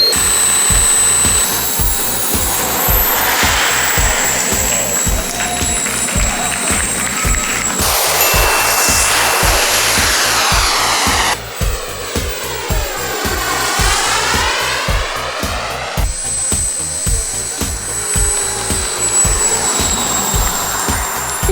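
Radio-controlled model jet aircraft landing at the Jet Thailand Meeting 2022, a loud continuous turbine whine with shifting high tones and a sweeping flyby roar, heard alone without talk.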